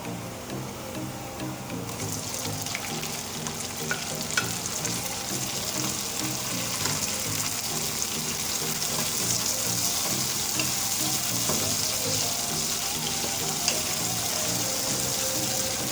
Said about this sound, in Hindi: टमाटर को 2 मिनट तक इसके अंदर हम फ्राई करेंगे